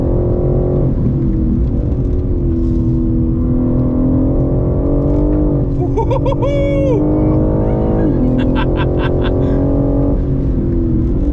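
A BMW M3 engine drones steadily at speed on a Goodwood track day, with pitch rising and falling as it revs and shifts, loud and close throughout with no talking.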